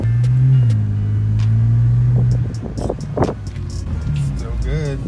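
A BMW car idles with a steady low engine rumble while being shifted toward reverse, the tone dipping partway through; people talk over it close by.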